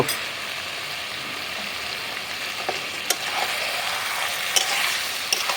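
Potatoes added to chicken curry frying over a wood fire, a continuous close sizzle with occasional sharp stirring clacks, no voices.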